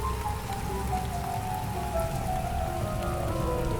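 Steady rain pours down through trees, a dense, even hiss of drops on leaves and branches that continues unbroken and fairly close, with no voices.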